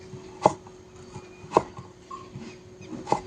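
A knife cuts slits into a raw potato in a home kitchen, giving three sharp, separate crunchy taps about a second apart against a quiet background hum.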